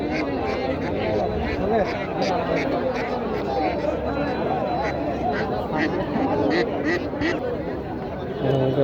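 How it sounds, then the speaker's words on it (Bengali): Ducks quack and chickens cluck through a dense din of crowd chatter at a busy weekly market in Sreemangal, Moulvibazar, continuous and close. "অনেক হাঁস মুরগি, এখান থেকে ঢাকা থেকে পাইকাররা আসে"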